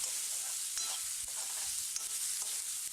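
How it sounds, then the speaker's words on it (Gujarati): Onions sizzle as they sauté in hot oil with turmeric for a Kathiyawadi dahi tikhari, with a steady, quiet frying hiss and a few soft scrapes of stirring throughout. "આપણે અહીંયા ડુંગળીને સરસ એવી સાંતળવાની છે, જેથી એની કચાશ દૂર થઈ જાય।"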